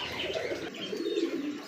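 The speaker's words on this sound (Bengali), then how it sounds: "এটা হচ্ছে হোয়াইট লক্ষা কবুতর" White Lakkha pigeons coo in soft, throaty rolling phrases close by, with a brief break midway before the cooing resumes louder; faint chirps sit in the background and no one speaks.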